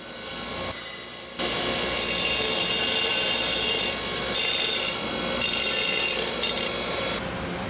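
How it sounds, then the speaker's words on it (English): A tabletop grinder grinds burrs and sharp edges off cut metal pieces for a coffee table build, a loud, close abrasive rasp that holds steadily for several seconds, briefly changing pitch as the pieces shift against the wheel. "I took them over to the tabletop grinder and I just ground off any of the burrs or any sharp edges left on the material"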